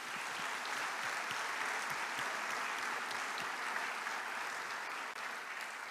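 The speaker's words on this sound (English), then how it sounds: "Jill, Janet, Jeanette, Jennifer, and Mark a gratitude round of applause." Sustained applause from a convocation audience, dense and steady clapping filling the hall throughout at an even level, with no speech over it.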